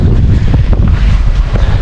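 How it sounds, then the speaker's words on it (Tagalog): Strong wind roars steadily across the microphone while riding a boat at sea, a loud continuous rumble with gusty buffeting and no pauses. "Ang presko ng hangin mga kasinag,"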